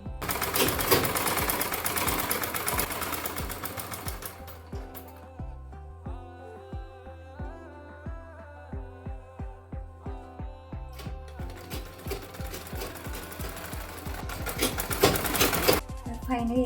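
A sewing machine stitches a dress seam in fast, rhythmic bursts of needle clatter, running hard at the start, slowing to a steady tick in the middle, then speeding up again near the end.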